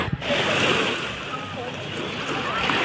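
Strong ocean waves at a beach resort in Lobo, Batangas, a loud continuous wash of surf with wind noise on the microphone, with a brief voice at the start.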